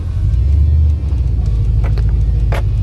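A car's engine idles with a low, steady rumble at close range while it is backed up and shifted into drive, and a couple of light clicks come near the end.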